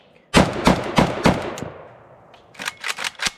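A Polish FB Radom Mini Beryl pistol fires at an outdoor range: a burst of about five loud, sharp shots in quick succession, then a short pause and four more rapid shots, each with a bright, ringing muzzle blast.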